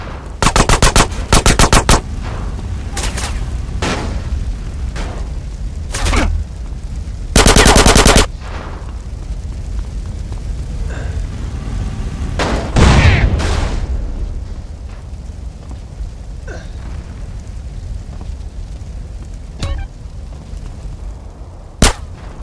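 Bursts of automatic gunfire and single shots in Grand Theft Auto San Andreas, loud and close, with several rapid volleys early on, then scattered shots over a steady background of game ambience.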